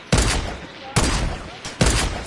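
Three loud, sharp gunshots in a video game, landing a headshot, spaced about a second apart, each with a short ringing tail.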